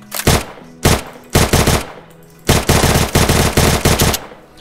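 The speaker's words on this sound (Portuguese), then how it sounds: "Enquanto isso, vou dar um tiro de Glock." Gunfire from a Free Fire match played in Minecraft rips out in loud, sharp bursts: short clusters of rapid shots separated by brief pauses, ending in a sustained rattling volley.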